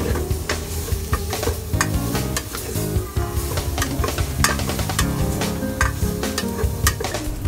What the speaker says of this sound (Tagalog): Haluin ulit, again and again.